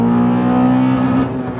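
A modified, naturally aspirated Honda Accord Euro engine revs hard and close, a loud, steady mechanical drone with a strong engine tone that sags slightly toward the end.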